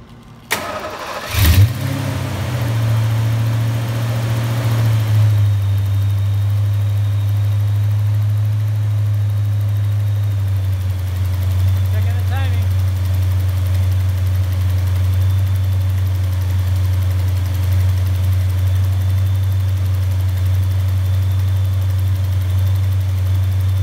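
A 1993 Ford Cobra 5.0L V8 fires up for the first time with a brief cranking burst, then settles into a steady, loud, deep idle that drones on evenly throughout.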